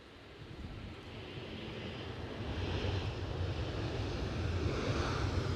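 An aircraft landing at Edinburgh Airport gives a distant, steady jet roar that grows slowly louder, mixed with broad wind-like rush and no speech.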